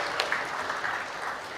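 Audience applause at a live event unveiling an advertising industry report, a steady dense wash of clapping from a large seated crowd that holds at an even level throughout.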